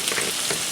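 Bacon sizzles on a Blackstone griddle, a steady close, even frying hiss with soft crackles throughout, with no voices.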